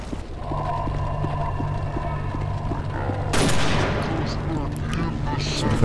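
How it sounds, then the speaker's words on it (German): A stationary machine gun in the shooter game TimeShift fires a long, rapid, evenly spaced burst over a low engine drone, followed by louder explosive bangs and crashing impacts. "Ich denke, da war ein Maschinengewehr. Ein stationäres."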